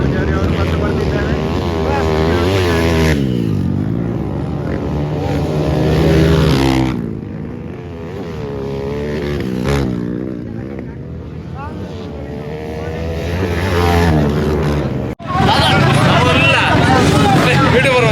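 A racing motorcycle ridden by Tulunadu bike racer Kiran Pujari at a race near Sakleshpur, its engine loud and close, revving up and down in repeated rising and falling whines with a sharp break near the end.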